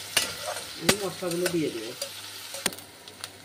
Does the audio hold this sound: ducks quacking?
no